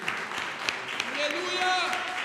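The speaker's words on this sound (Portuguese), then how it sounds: "Vamos aplaudir ao Senhor." Church congregation clapping in praise, a steady patter of hands under voices calling out, growing a little fuller near the end.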